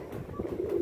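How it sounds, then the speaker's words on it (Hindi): Young pigeons kept by a breeder coo softly in a brief, low, murmuring burst, close and without any talk. "ये कबूतर आप देख लें, बच्चे हैं सारे।"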